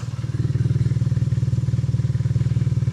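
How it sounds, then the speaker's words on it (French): A BMW R nineT motorcycle engine idling loud and close with a rapid, throbbing exhaust pulse, the open exhaust valves giving a deep, raw burble throughout. "Là, les clapets sont ouvertes."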